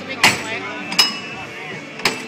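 Three sharp metallic hammer strikes land at irregular intervals, each a bright ringing clank over a low background murmur.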